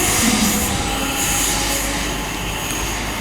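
A train passes through Stirling station: a steady, loud rolling rumble with a thin wheel squeal above it, continuous for several seconds and slowly easing off.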